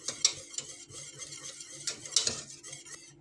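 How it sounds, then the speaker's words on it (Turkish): A mixture is whisked briskly in a pot on an unlit stove before cold water is added. Close, rapid metallic scraping and clinking runs throughout, with a few louder clacks, and no voices. "Biraz bunu iyice çırpacağım."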